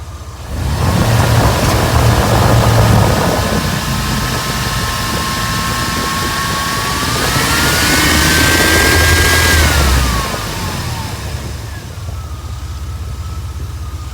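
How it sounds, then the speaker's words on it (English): A 1995 Chevy K1500 truck engine in a garage during an alternator swap, idling, then climbing into a long rising rev that holds high and drops back to idle, loud and close with a steady whine riding on top. "I'm gonna reach over here and I'm gonna rev the engine up"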